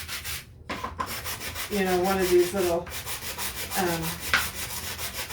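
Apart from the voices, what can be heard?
sanding a wooden plaque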